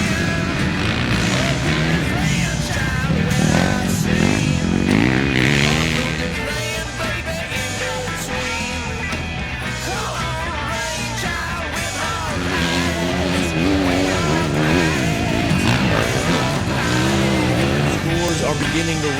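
Enduro motorcycles race across wet sand at a sprint enduro event, engines revving and wavering in pitch, loud and continuous, with voices talking over them.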